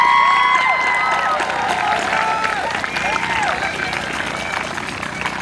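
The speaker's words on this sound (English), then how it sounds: "Can we please have a round of applause for them?" An audience at a high school graduation ceremony breaks into loud, sustained applause with cheering and whoops, a dense wash of clapping from a large crowd that holds steady and tapers slightly.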